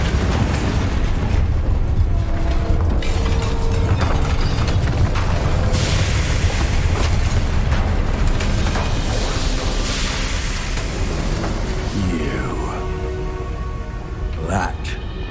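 Bombarda spell explosions in the video game Hogwarts Legacy, heavy booming blasts within dense, continuous battle noise, with voices and other effects layered on top throughout.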